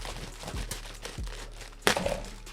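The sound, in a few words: package being opened with a spatula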